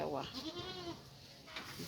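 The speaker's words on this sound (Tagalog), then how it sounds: "Ang ganda ng kambing na to" A goat, apparently pregnant, bleats with a wavering, nasal cry at close range, followed by a shorter second call, while people talk nearby.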